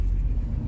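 A car driving along the road, heard as a steady low engine and road rumble, close and constant, with no voices.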